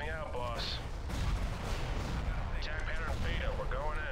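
Proton torpedoes being fired at a Venator warship in a Star Wars space battle game, a continuous rumble of heavy blasts and explosions under someone talking throughout.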